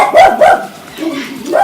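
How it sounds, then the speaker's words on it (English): A dog barks twice up close, loud and sharp, then gives a softer whine and another bark at the end. "Sorry about my dog barking"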